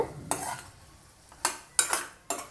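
A spoon stirring thick tomato masala for garlic curry in a pan, with several distinct scraping strokes over a low sizzle, close and moderately quiet, with no voice.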